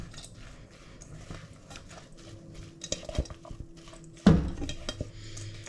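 A lime dressing is stirred into sliced courgettes in a bowl, with soft scraping and clinking of a utensil against the dish, then one sharper knock near the end. No one speaks.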